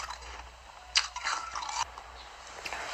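Close, crisp crunching bites followed by wet chewing, with sharp snaps standing out against a quiet background.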